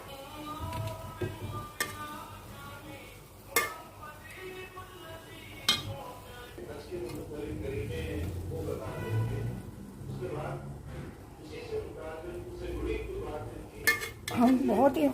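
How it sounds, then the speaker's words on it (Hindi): Mutton pulao is served from a pot with metal utensils, scattered clinks and scrapes against the pot and dish, a few sharper knocks standing out, while someone talks over the clattering. "अभी मैं इसको डिश आउट कर रही हूँ।"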